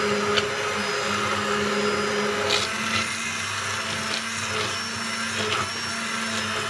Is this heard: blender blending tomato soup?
yes